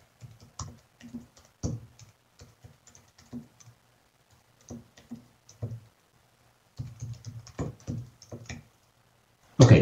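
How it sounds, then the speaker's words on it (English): Bursts of quick keystrokes on a computer keyboard come in clusters separated by short pauses, close and fairly quiet, with a louder clack at the end. "Sorry, my typing is not great here."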